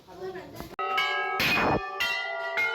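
Many bells ring together at Chitai Golu Devta temple, where thousands of bells hang, each strike leaving a bright, long-sustaining metallic tone that overlaps the next; several loud clangs land in quick succession, close by.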